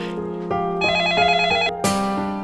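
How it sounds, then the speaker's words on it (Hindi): A telephone rings indoors in a series of bright, tonal electronic bursts with short gaps between them, loud and close, with no talking over it. "वो एक मिनट है, फोन आया"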